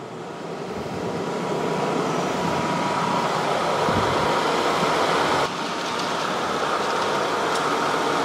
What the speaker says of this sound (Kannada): ಗಾಳಿ ನೋಡಿ ಸರ್, ಆಲ್ಮೋಸ್ಟ್ 10 ಫೀಟು, 10 ಇಂದ 15 ಫೀಟ್ವರೆಗೂ ಈಸಿಯಾಗಿ ನಿಮಗೆ ಗಾಳಿ ಬರ್ತಾ ಇದೆ